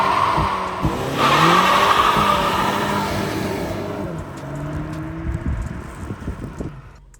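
A front-wheel-drive VW Polo GTI launches hard, its engine rising through a loud rev and gear changes while the tires struggle to put the power down. The sound then fades into lighter road noise and rattles.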